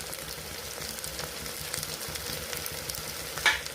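Garlic and curry leaves fry in hot oil in a pan for a tomato garlic curry, giving a soft, steady sizzle with faint crackles and one brief clink near the end; no talking.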